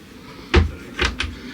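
Cupboard doors inside a Jayco motorhome at a caravan show open and shut. There are three sharp wooden clunks close by: one firm knock, then a quick pair of lighter ones about half a second later.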